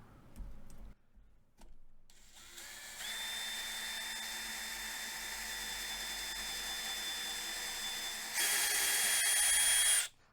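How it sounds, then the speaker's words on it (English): A power drill with a 3/32 bit whirs steadily for several seconds after a few short starts, rising in pitch and loudness near the end as it bites in close by beside a dovetail. "I'm just going to drill a hole."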